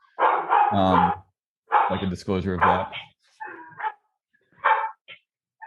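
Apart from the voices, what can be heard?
dogs barking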